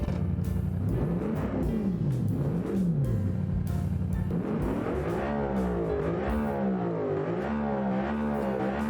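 A race car engine built in the car-design game Automation on slick tyres, revving steadily while warming up, its pitch climbing and falling in repeated sweeps, loud and continuous with no talking.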